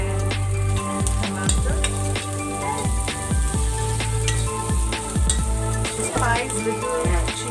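Onion and chopped capsicum fry in a pan for South Indian-style Maggi noodles, giving a steady, loud sizzle with repeated stirring scrapes and clinks throughout.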